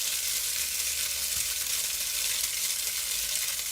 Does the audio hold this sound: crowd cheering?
no